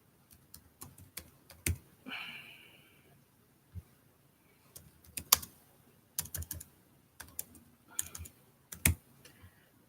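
Typing on a computer keyboard, irregular bursts of sharp close key clicks and clacks with short pauses between, loud and alone.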